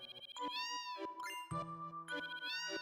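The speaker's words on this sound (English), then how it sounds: "And Turbo pet the cat." A cat meows several times in Final Fantasy VII, with bright harmonic cries at the start, middle and end of the clip, mixed with light jingling game chimes and no talking.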